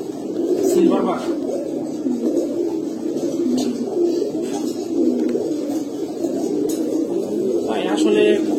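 Male pigeons, among them a silver Bagha, coo continuously up close, their low rolling warbles layered together while someone talks over them.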